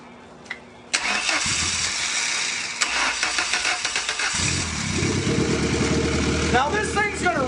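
An old car engine fitted with a GEET fuel system cranks and catches, then settles into a rough, uneven idle with a steady pulsing rumble; someone talks briefly nearby.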